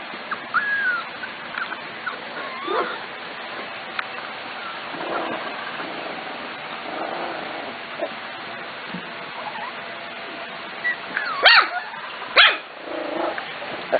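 Corgis give a few sharp barks and yips, loudest near the end, with quieter growls and shuffling noise between them.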